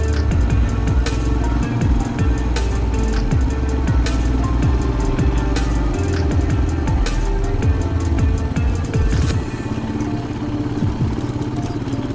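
Royal Enfield Himalayan motorcycle ridden along a bumpy country shortcut lane, a loud continuous engine drone with wind noise and clattering jolts from the rough surface, close and steady throughout.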